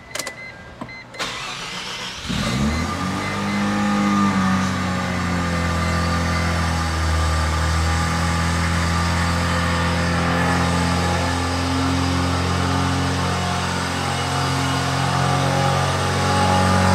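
A car with a stock exhaust cranks briefly, fires up and settles into a steady, fairly quiet warm-up idle, heard close and continuously with no talk.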